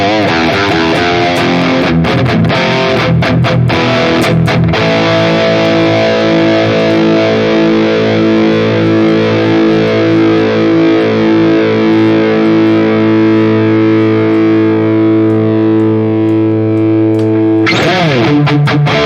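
Electric guitar played through a NUX MG30 high-gain amp model with chorus off, giving a loud, sustained distorted chord that rings for over ten seconds with slight breakup. Choppy strummed hits come before it, and a new attack follows.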